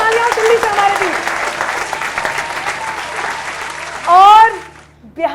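An audience at a comedy and poetry stage event applauds, a dense wash of clapping under a host's voice, with a loud burst of cheering or a shout near the end before fading.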